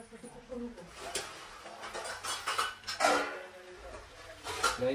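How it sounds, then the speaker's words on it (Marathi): Masala being stirred into pasta in a pan, with spoon and utensil scrapes and clinks against the pan in an irregular rhythm, close by, while a person talks over the mixing. "करूया मसाला डायरेक्ट आपण मिक्स करूया"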